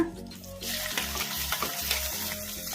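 Crushed green chillies and spices for buttermilk spinach sambar frying over medium flame, a soft steady sizzle with faint stirring and scraping, fairly quiet.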